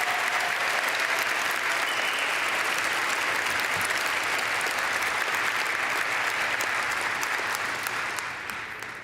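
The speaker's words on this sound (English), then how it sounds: "One more very big round of applause for our 2026 student athletes." Audience applause at a student-athlete graduation ceremony, a dense, sustained wash of clapping from a large crowd that holds steady before tapering off at the end.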